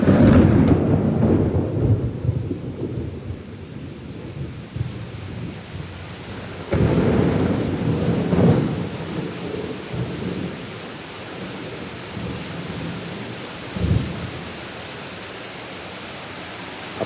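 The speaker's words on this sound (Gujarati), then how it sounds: "જે રીતે વીજળીના કડાકા થઈ રહ્યા છે" A heavy monsoon thunderstorm with full-speed rain, steady hiss of downpour broken by several loud thunder cracks and rumbles, the strongest at the start and others around the middle and later.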